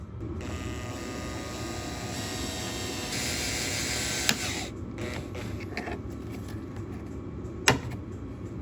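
A drill grinds steadily through rivets on a rusty MK2 Golf sill, a continuous motor whine with metallic chatter and two sharp clanks partway through.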